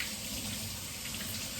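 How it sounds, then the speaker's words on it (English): Tap water running in a kitchen sink during hand washing, a steady, close, even hiss of flowing water with no breaks. "Wash my hands real quick."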